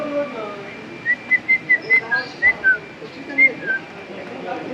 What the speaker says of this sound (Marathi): पक्षी आहेत